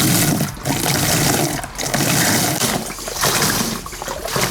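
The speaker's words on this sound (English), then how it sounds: "you want to be quite vigorous with the pouring into the bucket so that it gets lots of air into the juice" Cranberry juice poured vigorously into a bucket for making cider, a loud, dense splashing gush that continues throughout with only brief dips in the flow.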